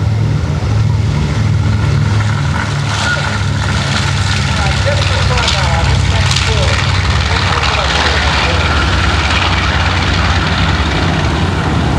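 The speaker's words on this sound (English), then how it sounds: "The B-25 Mitchell bomber." B-25 Mitchell bomber engines running at the Gathering of Eagles airshow, a loud continuous droning roar throughout, with someone talking over it.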